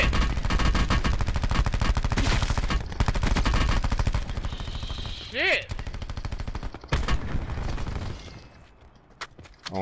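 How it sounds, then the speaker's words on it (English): Automatic and single gunshots crackle in a battle royale video game firefight, dense and loud for most of the stretch with a brief lull, while players talk over the shooting. "I'm getting shot from the back."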